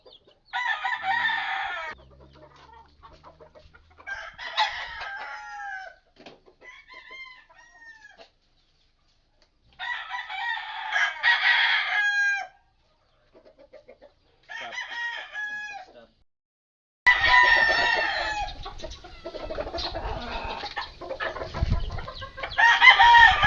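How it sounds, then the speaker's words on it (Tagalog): Mother hen with one-month-old chicks clucking in bursts separated by quiet gaps, close and fairly loud, with a denser stretch of overlapping clucks and squawks toward the end. "Ito yung inahin."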